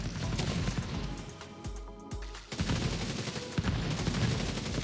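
Gunfire in The Division 2 video game, loud rapid bursts of shots packed together with a short lull in the middle before the firing resumes, no voices.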